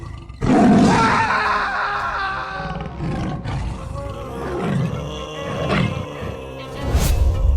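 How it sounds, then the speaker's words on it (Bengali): A white tiger roars in the Sundarbans: a loud, sustained series of deep, rumbling roars and growls that swell and fade across the whole stretch, close and powerful. "এটা কোনো গরু নয়, এটা সাদা বাঘ।"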